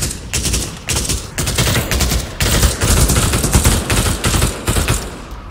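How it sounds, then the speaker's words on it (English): Rapid, loud automatic gunfire in Pavlov VR, with bursts of shots hammering close by in quick rhythmic volleys, barely broken by brief pauses. "I'm gonna try to shoot him."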